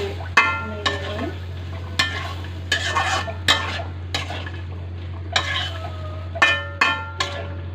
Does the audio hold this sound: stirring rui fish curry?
yes